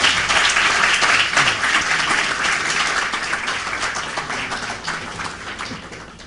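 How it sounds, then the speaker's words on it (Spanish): Loud, dense applause from a large crowd at a university keynote lecture, continuous throughout and gradually tapering off toward the end. "y pido para él un aplauso."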